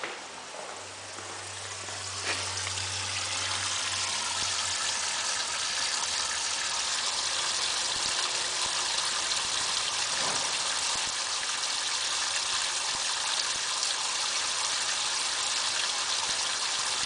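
Water is pumped out outside a house, a steady broadband gushing rush that continues unbroken and fairly close, with a low hum fading out early on.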